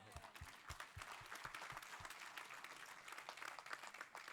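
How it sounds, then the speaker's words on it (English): Room-wide applause at a horse racing champions awards ceremony for an honoree, opening with a few loud, distinct nearby claps before settling into a dense, lively wash of clapping from the crowd. "So we all need to give him a round of applause"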